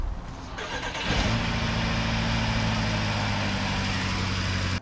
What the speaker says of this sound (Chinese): 甚至首次启动就能完成打火